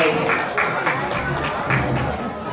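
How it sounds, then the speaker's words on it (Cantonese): Applause for a children's dance performance at an inter-school dance carnival, a crowd clapping steadily with scattered cheers while a host keeps talking over it. "俾多次掌聲佢哋好唔好啊"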